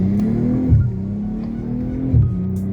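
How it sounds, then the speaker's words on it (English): The turbocharged engine of a BMW M3 G80 drones steadily from inside the car, rising in pitch as it accelerates, with two brief surges where it shifts and pulls again. "Now here you hear the turbos."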